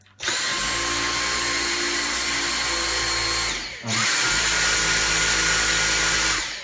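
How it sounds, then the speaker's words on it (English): A Dyson V6 Absolute cordless vacuum with its motorized head on normal setting gives a loud, steady high-pitched whine that cuts out briefly midway, then starts up again and runs on. "Just to give you an idea of the noise, this is the motorized head and the V6 on normal setting"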